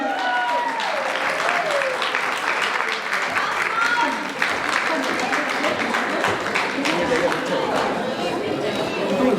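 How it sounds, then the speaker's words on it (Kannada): A large audience at a Yugadi stage event claps and applauds steadily throughout, a dense continuous wash of clapping with some crowd noise mixed in. "ನಿಮ್ಮ ಜೋರಾದ ಚಪ್ಪಾಳೆ ದೀಪನಿಗೆ."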